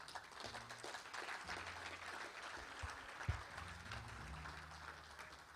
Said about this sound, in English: Please keep clapping as he makes his way to the stage.